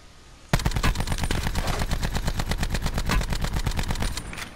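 Sustained automatic gunfire in Call of Duty Black Ops Blackout, a loud close burst of rapid, evenly spaced shots running for about four seconds before cutting off, with no talk over it.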